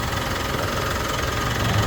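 A Mitsubishi Triton pickup engine idles after a push-button start and oil change, with a steady low rumble and faint mechanical knocking, continuous and fairly close, with no voices.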